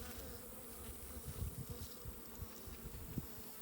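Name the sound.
small honeybees buzzing in the hive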